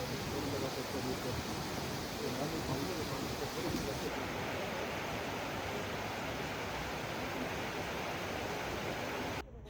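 Steady broadband roar of a deep, clear-water waterfall along the Hantan River gorge, a dense constant wash that stays loud and even throughout with no gaps.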